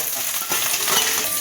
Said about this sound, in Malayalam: അപ്പൊ കടുക് പൊട്ടി